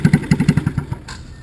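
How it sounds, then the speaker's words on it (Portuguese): A Z100 motorcycle with a straight one-by-one pipe exhaust fitted with a dB killer revs in quick sputtering pops, a rapid close burst of exhaust blats that slows and fades within about a second. "Tá aí o escapamento. É o só o cano um por um com o DB Killer."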